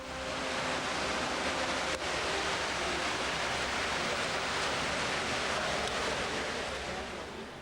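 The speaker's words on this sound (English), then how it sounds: "Hear the noise of the water rushing in?" Water gushing loudly into an underground storm drain tunnel in Sydney, where the entrance ramp forms a waterfall; a steady, dense roar fills the space without a break.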